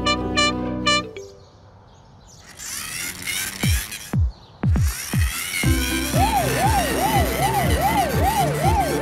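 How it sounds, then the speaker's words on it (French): A cartoon fire truck's siren wails in a steady rising-and-falling pattern alongside a horn blast, with bright musical tones and jingles around it, fairly loud and close. "Le camion de pompiers est là pour éteindre le feu."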